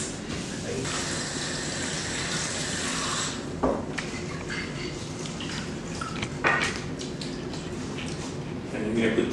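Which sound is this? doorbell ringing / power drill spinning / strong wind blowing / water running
water running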